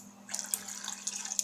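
Hot water streams from a kettle into a cooking pan, a close trickling, splashing pour that starts abruptly and runs on briefly over a low steady hum.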